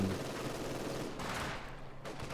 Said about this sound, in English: The German HMG squad is going to open up on the Russian HMG squad.